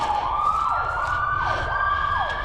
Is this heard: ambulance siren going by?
yes